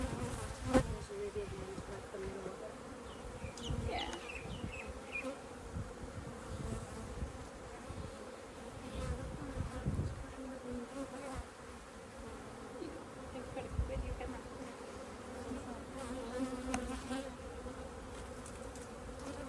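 Dense, continuous buzzing of many honey bees around a top bar hive, close and steady, with faint background movement.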